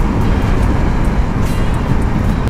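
RS200 motorcycle cruising in top gear on a Karnataka road, a steady, loud roar of engine and wind rushing continuously with no letup.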